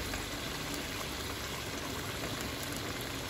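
Pork and stink bean curry bubbles steadily in a pot, a dense, continuous boiling hiss with liquid churning close by and no pauses.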